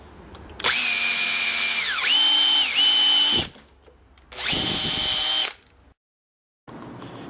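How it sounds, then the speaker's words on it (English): A power drill boring a pilot hole in hardwood for a wood screw tap, two loud sustained whining bursts with pitch dips as the bit loads, separated by a brief pause. "So on this side, I'll drill a pilot hole."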